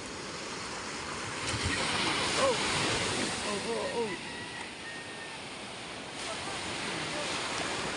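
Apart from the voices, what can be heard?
big sea waves at the shore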